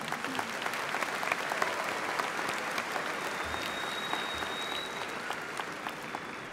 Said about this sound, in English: So you can go ahead and clap for them now.